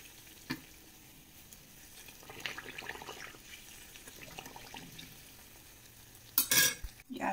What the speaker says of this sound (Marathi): अशा प्रकारे या सर्व पुऱ्या मी छान अशा तळून घेणार आहे